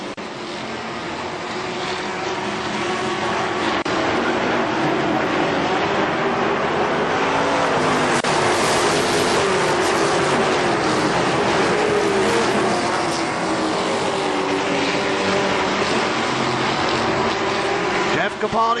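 Race cars lap Kil-Kare Speedway during a 30-lap race in 1998, a loud, continuous roar of engines at full throttle that swells and fades slightly as the cars pass and circle the track.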